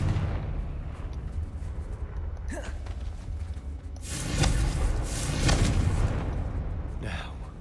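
Confringo fire spell in the video game Hogwarts Legacy, a burst of explosive whooshing and crackle rising loud midway after a spoken incantation, with voices around it.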